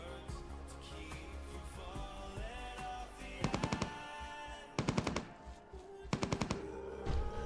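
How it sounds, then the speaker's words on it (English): Gunfire in the online game Entropia Universe, heard as three distinct rapid bursts of automatic shots over a steady hum of game music and ambience, moderately loud with no talk. "Stop shooting. Let him come to us."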